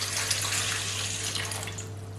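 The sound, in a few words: water poured into a bowl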